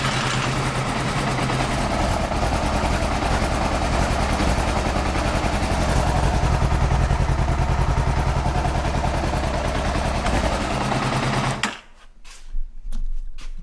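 A Honda CBR600RR motorcycle engine, burning oil and struggling, runs rough with a loud, continuous uneven rumble and clatter up close, then abruptly cuts off near the end, leaving a few faint knocks.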